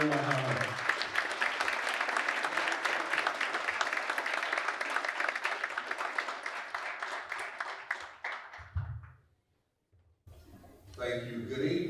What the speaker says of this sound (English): give a round of applause for the Mayor of Benton Harbor